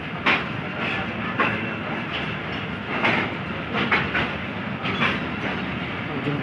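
Train arriving at platform 5 of Lahore railway junction, an express from Multan: a loud, steady rumble with rhythmic wheel clatter and periodic clicks as carriages pass.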